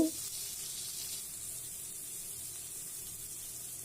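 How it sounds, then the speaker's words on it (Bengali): Onions, whole cumin, dried red chilli and ground spices fry in mustard oil in a pan, giving a steady, soft, hissing sizzle with a brief knock at the start. "এখন এগুলি ভালো করে মিশিয়ে ফ্রাই করে নিচ্ছি"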